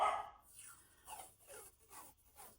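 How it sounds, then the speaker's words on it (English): A dog whining and whimpering to be let outside, a series of thin, high, wavering cries in short bursts, heard indoors from nearby with no talk over it. "It sounds like I have a dog that wants to go outside."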